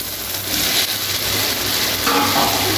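Fried soybean chunks and potato being stirred into cooked-down spices in a pan, giving a steady close sizzle with scraping stir strokes throughout and no voices.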